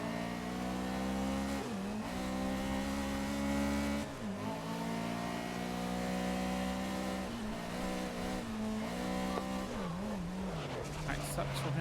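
A race car engine in the racing game Grid 2019 drones steadily with shifting pitch as gears change and revs climb and drop, while a person talks over the continuous motor sound.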